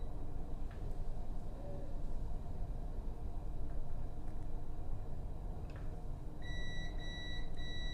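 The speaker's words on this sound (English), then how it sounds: "the meter is beeping" Steady low background noise, then a thin high multimeter continuity beep sounding in short repeated pulses near the end, while testing three-phase motor wiring.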